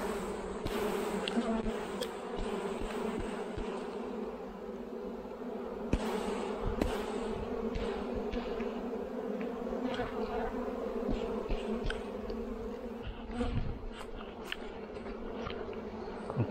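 Honey bees buzz steadily in an open hive during a spring inspection, a dense close-up drone that runs throughout, with scattered light knocks and handling sounds from the frames.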